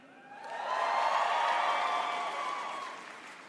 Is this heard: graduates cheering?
yes